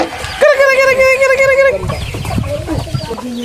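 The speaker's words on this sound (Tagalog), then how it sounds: "Bali dito yung mga kulungan ng mga inahin, doon naman sa labas yung mga tandang." Chickens cluck nearby, with one loud drawn-out call early, followed by a busy stretch of mixed clucking and squawks from several birds.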